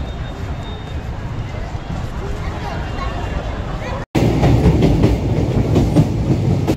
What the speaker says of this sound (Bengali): ট্রেনটা কিন্তু মোটামুটি ভালোই চলে।